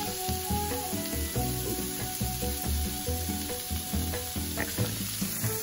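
Steady sizzling of food frying in a hot pan, continuous and close, with faint clinks and scrapes over a low hum.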